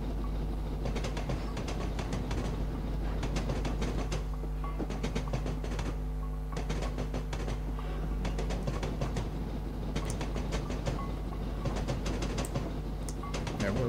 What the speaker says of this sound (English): Very noisy train though.